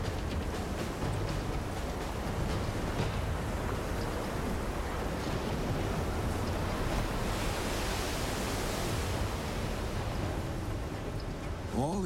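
Ocean waves whipped up by hurricane-strength storms roar as a continuous, dense wash of surf and wind noise, loud and steady for the whole stretch with no voices.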